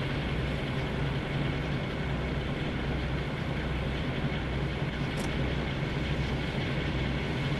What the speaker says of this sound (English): We are turning the train. Well, that's very sort of wobbly as it comes around.